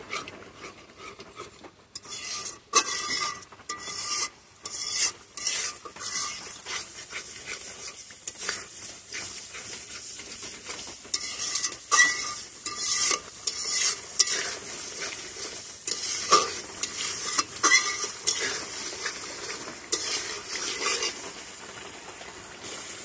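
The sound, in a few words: stirring and frying spice masala in a pan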